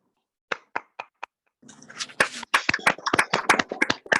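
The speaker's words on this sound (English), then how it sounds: "Please let us applaud TM Ibuku" Applause for a speaker at a Toastmasters meeting starts with a few isolated claps and then swells into fuller clapping from a small group, sounding close and clear.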